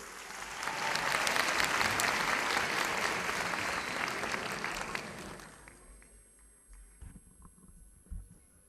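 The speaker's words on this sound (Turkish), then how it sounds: "Alkışlarınızla Fatıma Sena Gölelçin geliyor" A crowd at a youth festival applauds someone speaker as she is welcomed, loud steady clapping for about five seconds that then thins out to scattered claps and quiet.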